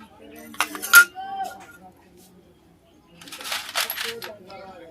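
Metal plate fitted onto a Hero Honda motorcycle engine during an engine rebuild: a few bright metallic clinks and rattles, a sharp cluster early then a looser jangle later, close and clear in a quiet room.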